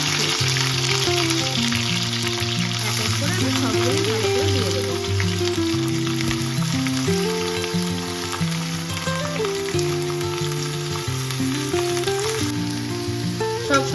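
Chopped cauliflower stalks and other vegetables hit a pan of oil with fried black cumin for a Bengali charchari. A steady close sizzle runs throughout, with a strong tonal music bed playing underneath.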